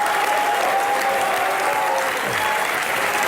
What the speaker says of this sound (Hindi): दिलीप साहब के लिए एक बार जोरदार तालियां।